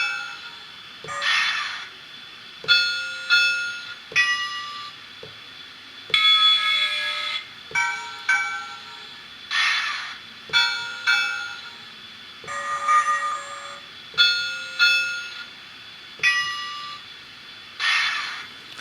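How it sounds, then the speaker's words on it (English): An XL Systems two-wire sound-only DCC decoder for a model train plays a series of bell sounds, repeated bright metallic dings in evenly spaced bursts with brief pauses between, loud and alone without talking. "there is an option for us to change even the bell type"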